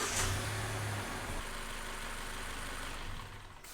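A 2013-or-later third-generation Mazda 3 engine running at a steady idle just after being started, heard up close as a loud, even rumble that eases slightly at the end.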